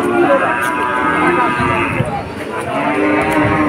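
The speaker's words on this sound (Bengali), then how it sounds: "এই যে কতগুলো বাছুর আছে" Calves moo at a cattle market in Monirampur, a few drawn-out calls close by amid crowd murmur and people talking.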